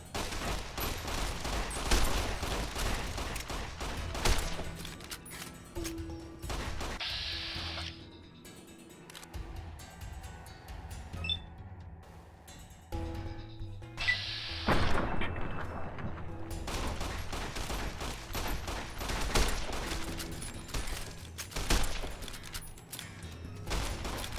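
Fallout: New Vegas combat with repeated bursts of gunfire and sharp shots, loud and intermittent, separated by quieter gaps and game ambience, with a pause where firing stops.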